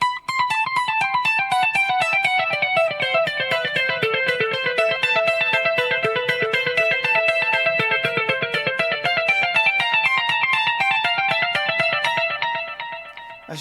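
Electric guitar played through a Fractal Audio processor with a long 375 ms delay, a steady run of loud notes with repeats echoing behind each one and a reverberant wash that fades out at the end.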